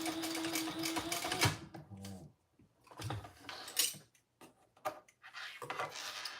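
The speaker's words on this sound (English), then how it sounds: "I'm going to put a row of top stitching just as close to the D-ring." A sewing machine runs top stitching close to a D-ring on a traveler pouch, with a sustained buzzing run, then short stop-start bursts and clicks between pauses, all close and clear.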